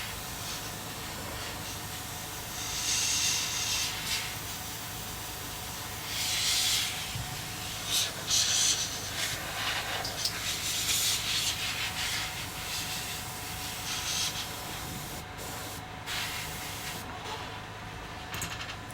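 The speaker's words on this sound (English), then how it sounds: "I'm also going to take the airbrush, no paint, just air. I'm gonna kind of blow that around a little bit." An airbrush run with no paint, only air, hissing in several bursts of a few seconds each against a quiet background, close and fairly loud, with no speech.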